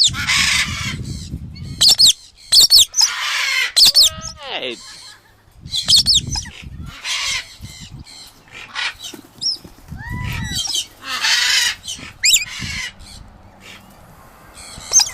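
Pink and grey galah cockatoos calling in Australia, a series of harsh screeching squawks and rising chirps in short bursts with quiet gaps, fairly close and loud.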